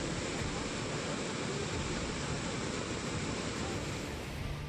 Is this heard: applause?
no